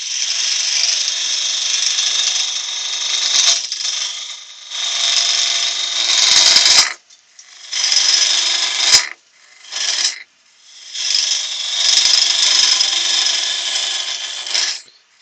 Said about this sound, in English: I'm using a 3/8 bowl gouge to start to shape this.